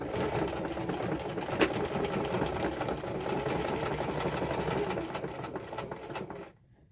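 A domestic sewing machine stitches fabric in a fast, steady, whirring run that continues for several seconds, close and clear, then stops abruptly near the end.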